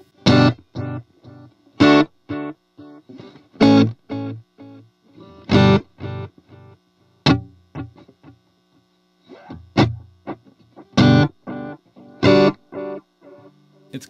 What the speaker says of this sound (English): I've dialed in a sound with the Echoplex on the DelVerb